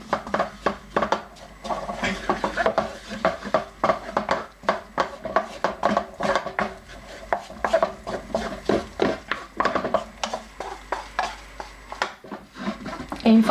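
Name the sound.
whisking flour into melted butter for béchamel sauce in a pan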